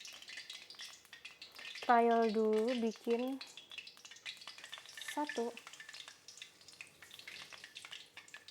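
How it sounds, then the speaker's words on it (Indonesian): Shrimp fritter batter (bala-bala udang) frying in hot oil, a steady soft sizzle running throughout with brief stirring, under a voice talking close by. "udah tercampur rata, mau kita goreng."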